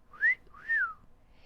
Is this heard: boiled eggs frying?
no